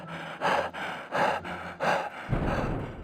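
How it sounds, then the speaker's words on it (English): A Survivalcraft game character, out of stamina, pants heavily in three rhythmic gasping breaths, close and loud with no speech over them. "the character stops, starts panting, and you can hear such sounds"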